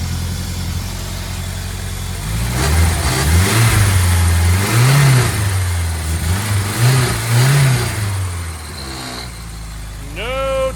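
A turbocharged engine just back from repair starts and revs in surges, its low drone rising and falling through several throttle blips at close range, with a brief whine near the end and faint talk around it.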